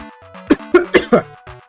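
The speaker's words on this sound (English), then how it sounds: "I feel like I'm about to cough." A close, loud fit of coughing, about five quick harsh coughs in a row, then a softer one.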